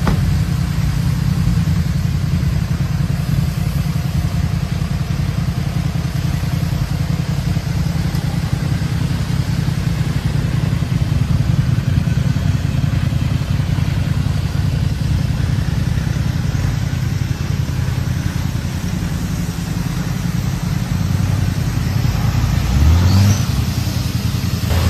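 A new BMW car runs steadily with a low engine rumble throughout, ending with a brief rising rev as it pulls out, with no talk over it.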